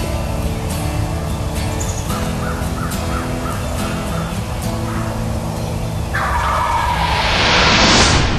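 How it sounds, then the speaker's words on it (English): A wild turkey gobbles repeatedly from a wooded ridge during a spring hunt, with the hunters sitting in a double bull blind below. Several rattling gobbles carry through a dense outdoor soundscape of other birdsong, including crow-like caws. A brighter hiss builds toward the end. "The bird would gobble frequently and strut back and forth on the ridge above us"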